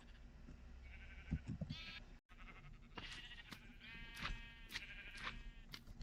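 Sheep bleat in the Minecraft video game, several wavering bleats one after another against a quiet, soft background.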